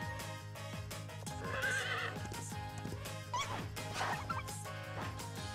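A horse neighs and whinnies during a mounted attack in a video game, loud and clear over a steady game music bed with scattered effects and hoof clatter.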